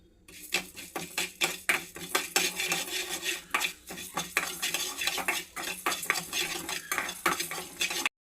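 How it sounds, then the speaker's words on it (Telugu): Coriander seeds and fenugreek are dry-fried in a pan for a fish curry, stirred hard with a metal spoon that scrapes and clinks in a fast, steady rhythm, close and without talk. "అందులో ధనియాలు, మెంతులు ఇందాక చూపించా కదా, అవి వేసుకొని త్వరగా ఫ్రై చేసుకుందామండి."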